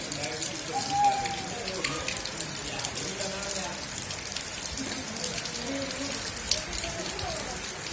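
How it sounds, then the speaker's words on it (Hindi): Light rain falls steadily outdoors in the evening, a soft continuous patter of drops with faint background sounds and no talking. "देखो हल्की हल्की बारिश शुरू हो गई।"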